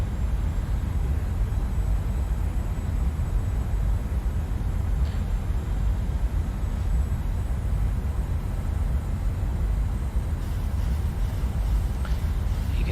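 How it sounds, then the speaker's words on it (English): Engines of a PMDG 737-800 in Microsoft Flight Simulator 2020 drone steadily on final approach in gusty wind, a loud broad constant rumble with a faint high whine, no talking. "You can hear that trim in the engine"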